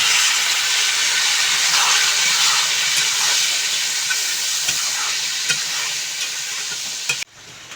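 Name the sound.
water added to hot pan of potatoes, steaming hiss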